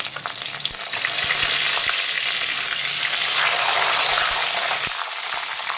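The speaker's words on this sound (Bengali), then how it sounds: "এখন কড়াইতে দিয়ে দেব গোটা জিরে, গোটা গরম মশলা, শুকনো লঙ্কা আর তেজপাতা ফোড়ন।" Whole cumin, whole garam masala, dried red chilies and bay leaves fry in hot oil in a kadai, giving a loud, steady crackling sizzle with scattered pops and light stirring throughout.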